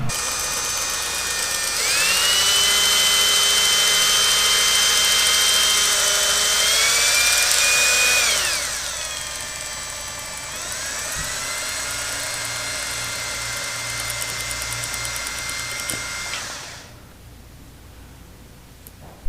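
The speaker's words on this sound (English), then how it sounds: "get a drill, and I use some weed whacker string" An electric drill spins weed whacker string to scour out a part from a 7.3 Powerstroke diesel, a loud, close, high whine that rises and dips in pitch across several long runs before spinning down to quiet.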